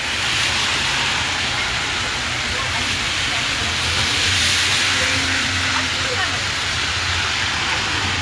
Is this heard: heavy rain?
yes